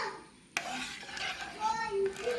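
A spoon stirs sugar syrup into a carrot and dates cake batter, a soft, close, wet scraping with a light knock against the bowl, brief and quiet.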